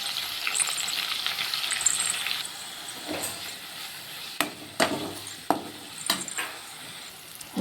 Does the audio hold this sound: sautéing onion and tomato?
yes